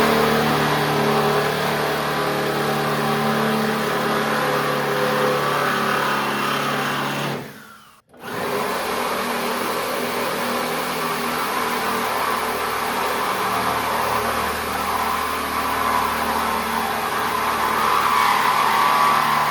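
A power drill spins drill bits through the metal floor of an AMX Javelin during restoration, a loud whining motor drone that stops briefly midway and then resumes, close and continuous.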